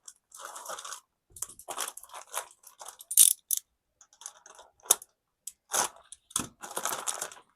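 A plastic parts bag from a Losi 22S Sprint dirt oval RC car kit is pulled open and rummaged through, giving loud, irregular crinkling and crunching bursts separated by brief quiet gaps.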